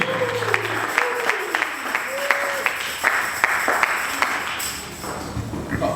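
A congregation at a Sunday church service breaks into applause and cheering, with a steady run of sharp claps and raised voices filling the room at a moderate, lively level.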